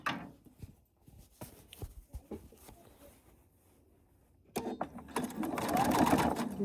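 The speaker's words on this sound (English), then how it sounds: "And don't forget to backstitch to secure your stitches." A sewing machine stitches fabric in short stop-start bursts, then settles into a louder, continuous whirring run near the end, close by with no talk.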